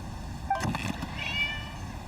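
A cat meows in the video game Genshin Impact: two short, high meows about a second apart over a low, steady background hum, with no one talking.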